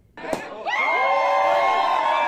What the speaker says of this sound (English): In Gaza, they've been cheering news of a deal